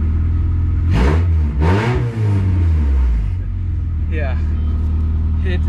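A Honda Integra DC4 running an open header with no catalytic converter revs up in two loud, rising bursts, then settles into a deep rumbling idle, with someone talking briefly over it.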